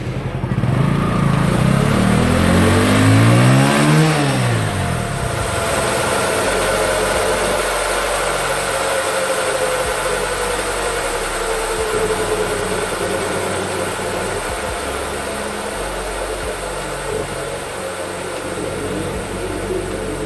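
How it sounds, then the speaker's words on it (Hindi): A motorcycle held in fifth gear on a stand runs at 6000 to 8000 rpm with the rear wheel spinning, giving a loud steady engine drone with a falling pitch sweep early on, close and continuous, no talking. "स्टार्ट करके 5वें गियर पे डाल के उसको 6000 से 8000 की इंजन स्पीड पे रोटेट करके चेक करिए"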